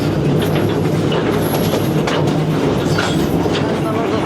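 A freight train rumbles steadily through Argentina, loud and close, with continuous rolling wheel noise, rhythmic clatter of the cars and faint high squeals.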